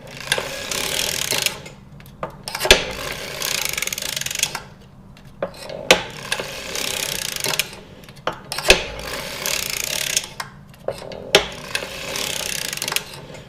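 A sock knitting machine is cranked round while working a short-row heel, a close, steady mechanical whir of clicking needles and gears repeating in regular bursts with brief pauses between passes.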